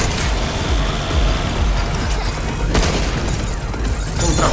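Gunfire and heavy booms rattle through a dense, loud battle against bots in the video game Pragmata, with bursts of shots layered over a constant roar.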